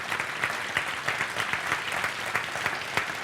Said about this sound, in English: They're clapping and they don't even know what's going on yet.